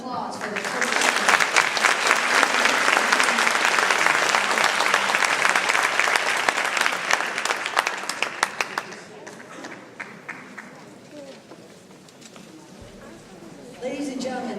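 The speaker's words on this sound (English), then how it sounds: "I want a big round of applause for the first panel" Loud, sustained audience applause in a university hall after a panel discussion, dense clapping that thins and fades out by the end, with a voice speaking over the tail.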